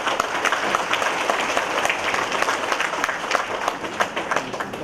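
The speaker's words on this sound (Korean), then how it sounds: "저 뒤에 서 계시는데 박수를 좀 보내주시기 바랍니다" An audience at a monthly lecture in Busan claps loudly and continuously, sharp individual claps standing out within a thick, sustained round of applause.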